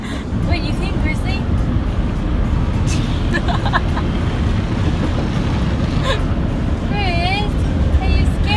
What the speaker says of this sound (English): We're at the car wash and Grizzly hates it.